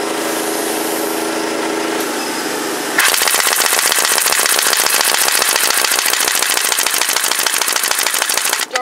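A pneumatic impact wrench driven by an air compressor works on a car's lug nuts: a steady hiss of air at first, then a loud, sustained rapid hammering rattle, close up.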